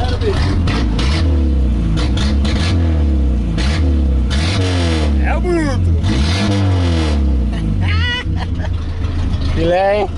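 Chevrolet Opala engine being revved hard in repeated rising bursts, loud and close, with people talking over it.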